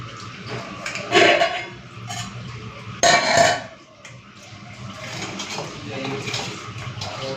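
Washed rice and lentils for paneer khichuri are tipped into hot water in two splashy pours, each a short burst of sloshing and clatter, with quieter watery movement between them.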